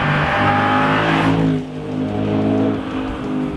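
An Audi with the aluminum 4.2-litre V8 roars loudly toward the listener and sweeps past in a flyby, then its note drops and fades into a quieter trailing engine hum.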